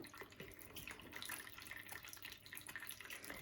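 Water runs steadily from a tap into a budgie's bath, a soft continuous trickle and splash with faint drips throughout, fairly quiet and close, no voices.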